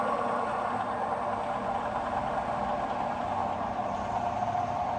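Tiger FU-120 universal milling machine with its spindle running at 500 rpm, a steady continuous mechanical hum and whir at constant level, with no talk over it.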